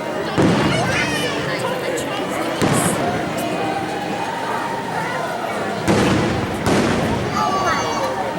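Disneyland fireworks grand finale seen from outside the park gates, with repeated loud bursts and crackling booms over a continuous rumble, crowd chatter and voices throughout.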